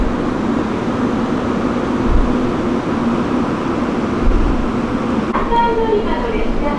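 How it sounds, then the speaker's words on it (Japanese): JR limited express Sonic on the Oita–Hakata line, heard as a steady rumbling train noise at a station platform, continuous and moderately loud, with a brief higher tonal chime or announcement tone near the end. "大分と博多の間を走る特急列車ソニック号です。"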